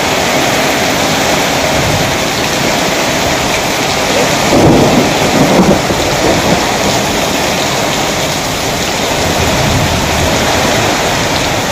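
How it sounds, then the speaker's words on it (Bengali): Heavy rain pours steadily onto a rural yard where maize is drying, with deep thunder rumbling through the middle of the downpour, loud and continuous throughout. "প্রচুর বৃষ্টি"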